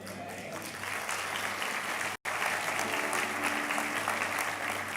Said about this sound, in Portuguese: Só uma coisa muito importante para você aplaudir de novo.